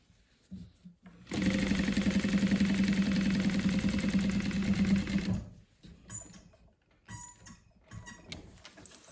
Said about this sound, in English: So I am only going to top stitch where the zipper is